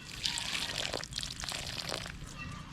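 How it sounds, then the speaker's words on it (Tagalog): Water pours slowly from a container onto newly planted, fertilized string bean seedlings, a soft continuous trickle and splatter close by with small sloshing shifts and no speech. "Mas matagal kasi yung magdilig ng ganito mga tropa kasi hindi pwedeng buhos talaga kasi matatanggal yung nilagay natin na pataba na"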